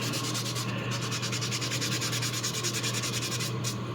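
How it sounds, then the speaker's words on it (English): A super fine sanding sponge rubs primer on a resin 3D print in quick, even back-and-forth strokes, a steady close-up scratchy rasp that runs the whole time with no talk. "So this is a super fine sanding sponge."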